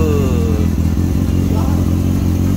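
A Kawasaki ZX636 motorcycle fitted with a Two Brothers exhaust runs loud and close in a garage, its engine rumbling and revving throughout with a gruff, throaty tone while people talk faintly nearby.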